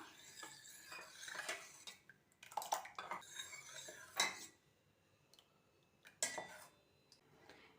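Salt being stirred into buttermilk porridge in a bowl: scattered clinks and scrapes of a spoon against the bowl, coming in short irregular bursts with quiet gaps between them, close and fairly soft, with no voices.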